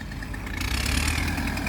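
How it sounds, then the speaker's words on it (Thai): Heavy diesel engines of a tractor and an excavator working at a dirt pit rumble steadily nearby, a continuous low drone with a rising mechanical whine, no talking. "มาดูการทำงานของรถไถแล้วก็ รถแมคโครครับช่วยกันนะครับ"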